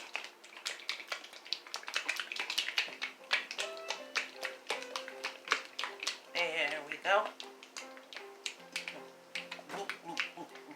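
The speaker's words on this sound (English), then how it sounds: "you just want to shake it well until you start to hear like this milky sound" Liquid sloshing and rattling as a bottle of castor and rose oil mixture is shaken repeatedly, turning from watery to milky-sounding, with a person speaking briefly partway through.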